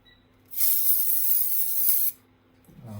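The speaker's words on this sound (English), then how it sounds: "Let's give this a little spray, just a tiny bit." Aerosol spray can giving one steady hiss of about a second and a half, fairly close and loud, starting and stopping abruptly, with quiet room tone around it.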